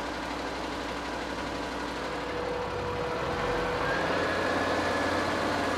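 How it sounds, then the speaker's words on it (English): Engine of an amphibious vehicle running steadily as it drives up onto a trailer, a continuous low rumble that swells slightly with added revs toward the end, close and alone without speech. "A little bit of revs to help them come up nice and even"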